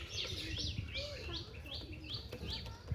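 Pigeons, a male and female pair offered for sale, give repeated rising chirping calls in a steady rhythm, fairly close, over a low background murmur with no clear talk.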